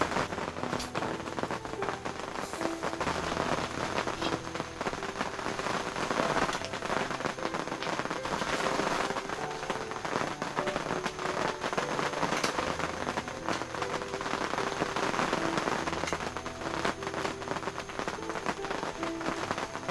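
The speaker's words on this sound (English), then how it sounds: "Listen to that rain out there just coming down. It's been pouring all afternoon just like that." Heavy afternoon rain pouring down outside an FJ Cruiser at a campsite in the Skagit Valley, a dense, constant patter of drops drumming on surfaces with occasional louder crackling hits, close and continuous, no talking.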